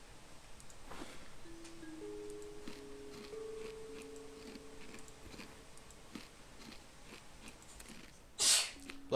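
A single sharp sneeze near the end, brief and loud above a low hum of background noise and faint clicks, with no one talking.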